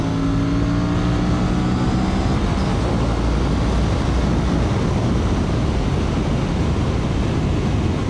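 An Aprilia RS 457 motorcycle on the move: engine whine is audible at first, then blends into a constant loud roar of rushing wind and road noise that fills the whole stretch.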